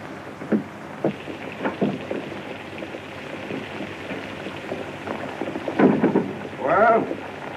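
Rain falling steadily with rumbles of thunder in a stormy outdoor setting, the downpour as a constant wash under several heavier thumps and a louder rolling burst near the end.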